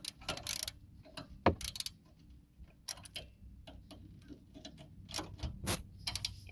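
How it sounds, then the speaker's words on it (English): A ratchet wrench clicks on a brake bolt of a Mercedes-Benz ML350, quick close ticking bursts in an irregular rhythm against light workshop background noise. "make sure your ratchet is spinning clockwise"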